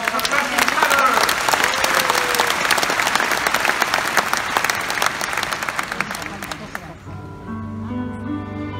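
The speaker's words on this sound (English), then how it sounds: "Give them already now an enormous applause for the three tenors!" A concert audience in Tel Aviv gives loud, sustained applause and cheers for the three tenors, dense clapping filling the hall before fading as the orchestra starts playing.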